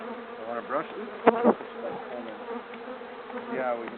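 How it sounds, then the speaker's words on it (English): Honey bees buzz steadily in a dense, close swarm during a spring hive inspection, with a couple of brief louder knocks from frames being handled near the middle. "I'm just going to shake the bees off."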